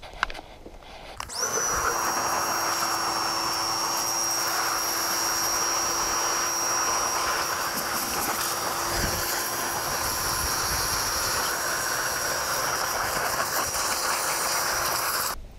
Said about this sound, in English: So I'm just gonna keep shooting it with the pressure washer,